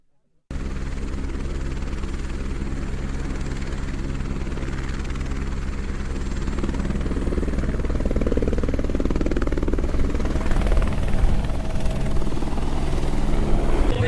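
A tourist helicopter service in Kashmir runs close by, its rotor and engine making a loud, steady thumping roar that starts abruptly and holds for the whole stretch, growing slightly stronger.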